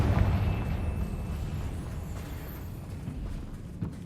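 A Confringo spell bursts in the video game Hogwarts Legacy, a loud booming blast at the start followed by a rumbling decay, with a smaller thump near the end and no talking.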